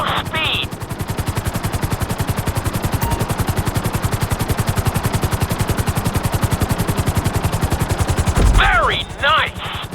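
Helicopter in a GTA 5 flight school session, its rotor thumping in a steady rapid pulse close and loud throughout, briefly joined by a thud and some sharp chirping tones near the end.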